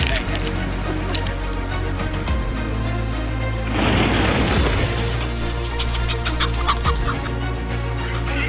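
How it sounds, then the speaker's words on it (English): Chickens in a coop on a Pennsylvania farm cluck and squawk in short, repeated calls, fairly close and continuous, with a louder burst of noisy flapping or squawking midway through. "the familiar sound of the chickens seemed quieter than usual"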